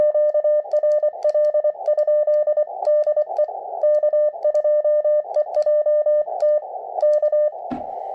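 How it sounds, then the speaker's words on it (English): Morse code sidetone from a KX2 or TX500 QRP radio, sent at about 18 words per minute: a clear, steady-pitched tone keyed in rhythmic dots and dashes, close and alone, with a brief low thump near the end. "So the side tone on this radio is pleasant."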